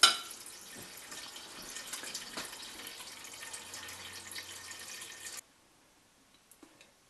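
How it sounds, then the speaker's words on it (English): Tap water runs into a soup pot, a steady close hiss and splash for about five seconds before the faucet shuts off, followed by a few faint drips and clinks. "And we'll fill up the pot."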